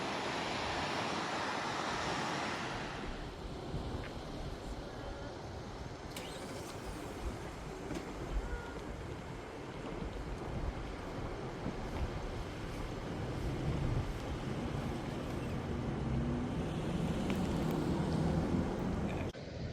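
The big waterfall at Fall Creek Falls gives a continuous, broad rushing roar that holds steady throughout, fairly distant and even, with no talking.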